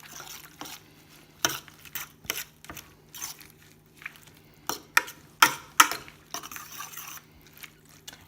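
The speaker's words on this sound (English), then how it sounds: "So now I'm going to mix it in with the veg and the fish and the sauce." Wet stirring and mixing of wilted spinach with vegetables, fish and sauce for a healthy fish pie, heard as a series of close, irregular squelching and clinking strokes with short pauses between them.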